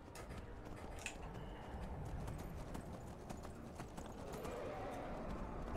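Horse hooves clip-clop steadily on a mount ridden in the video game Skyrim Special Edition, a continuous rhythmic trotting in the foreground with game ambience underneath.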